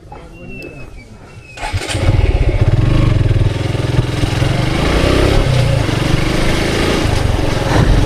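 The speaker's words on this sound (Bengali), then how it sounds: "তারপর থেকে আমি এখন এইভাবে বাইকটা চালাইতেছি।" A Suzuki Gixxer motorcycle engine is quiet for about two seconds, then fires up into a loud, close, steady roar that holds throughout with a faint chugging pulse.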